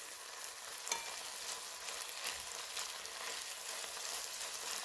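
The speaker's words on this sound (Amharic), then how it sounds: "ይኸው እንደዚህ አድርጌ ቆንጆ አድርጌ ጠብሸዋለሁ" Ethiopian tibs meat frying in a pan with very little oil, an even, quiet sizzle lasting several seconds with a couple of faint stirring scrapes, no one talking.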